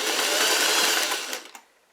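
A sewing machine stitches a medium-width zigzag on stretch fabric, whirring steadily and close for a moment before slowing and stopping, with no talking.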